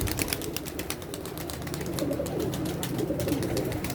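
A flock of pigeons cooing together in a dense, continuous murmur, close and fairly loud, with no voices.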